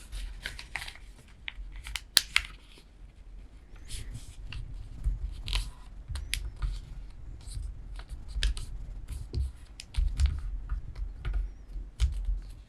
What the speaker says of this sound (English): we're going to fold our whole piece in half, taking the bottom edge, this edge right here, we're going to fold it to the top